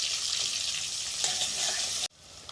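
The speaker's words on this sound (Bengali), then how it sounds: "পেঁয়াজটা একটু ভাজা ভাজা হয়ে গেলে আমি দিয়ে দেবো আদা।" Whole onions fry in a pan for a chicken curry, giving a loud, steady sizzle close up that suddenly cuts off and then starts again more quietly.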